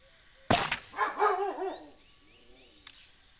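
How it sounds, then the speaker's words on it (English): A dog barks a few times nearby, with a sharp loud first bark followed by wavering whiny yelps and a faint final yip, heard indoors in a quiet room. "Apologies for the barking dog"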